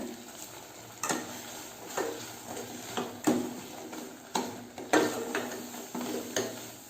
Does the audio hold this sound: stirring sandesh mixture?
yes